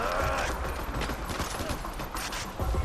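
Gunshots in Far Cry 4, a continuous dense crackle of rapid firing with no clear pauses, loud and busy throughout.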